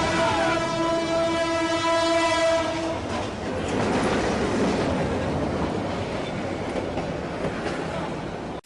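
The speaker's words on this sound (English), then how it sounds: "A train plows through a vehicle at the crossing in this intense 2009 footage." A train sounds a long, loud horn with strong steady tones, then a broad roaring crash-like rumble continues as the train plows through a vehicle at the Magbazar rail crossing in Dhaka, heard up close and without any talk.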